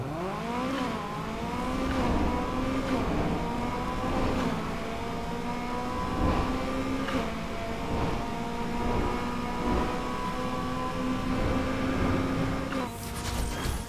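A 3.8 litre V8 engine swapped into a Mitsubishi Evo 9 in Need for Speed Heat revs and accelerates steadily through rising and falling gear pulls, a continuous moderately loud drone with brief shift dips and a tire screech near the end.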